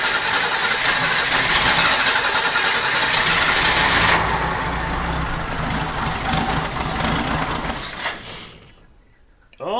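A Ford Durango that sat unused for nine years cranks continuously with a loud, close, rough mechanical whir for several seconds, drops lower partway through, then winds down and cuts out near the end.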